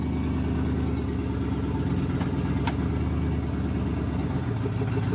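A loud car engine without a muffler runs steadily in drive gear, a rough, throbbing low rumble that holds at an even level throughout, with a couple of faint metallic ticks and no talk.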